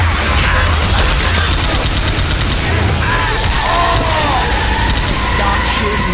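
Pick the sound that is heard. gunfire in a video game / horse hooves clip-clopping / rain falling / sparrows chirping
gunfire in a video game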